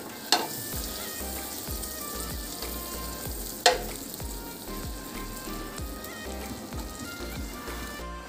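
Pav buns toasting in butter on a hot pan for Gujarati dabeli, a steady close sizzle with a couple of sharp louder pops and faint scraping, no talking.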